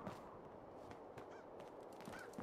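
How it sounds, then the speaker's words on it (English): Crows caw in the Fallout 4 video game at a deserted amusement park, several faint, harsh calls scattered over a low ambient backdrop, none very close. "And there's crows."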